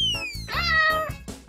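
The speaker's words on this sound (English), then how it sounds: "A cat makes a meow sound." A cat gives one clear, loud meow with a rising and falling tone, close and alone, over a faint backing beat.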